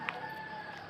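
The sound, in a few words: chickens, rooster crowing in the countryside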